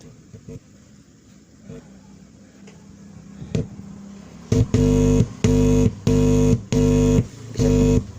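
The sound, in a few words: mid-high speaker playing through tone control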